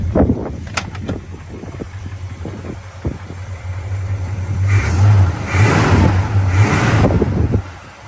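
A muscle car with dual exhaust and a rebuilt transmission, filmed outdoors in wind, gives a deep engine rumble that swells into three strong revs in a row, with microphone wind buffeting early on.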